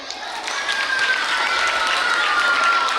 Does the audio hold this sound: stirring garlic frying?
no